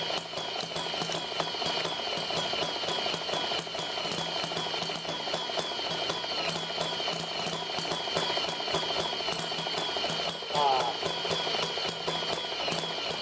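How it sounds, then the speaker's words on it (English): A generator setup's engine running steadily after being fitted with a bigger pulley, a continuous mechanical drone holding even loudness throughout, with a brief whine-like change near the end. "you can hear the engine is running just fine"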